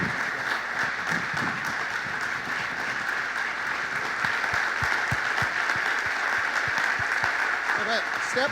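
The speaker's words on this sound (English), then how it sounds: "let's give a round of applause for Mayor Jim Lenup" Steady round of applause from an annual meeting audience for the mayor, continuous dense clapping at moderate volume throughout.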